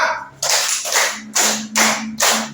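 Group hand clapping in unison at a teachers' positive-culture workshop, five loud crisp claps in a regular pattern, close, with a faint steady hum underneath and no talking.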